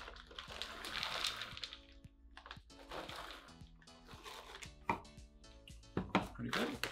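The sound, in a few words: frozen blueberries dropped into smoothie container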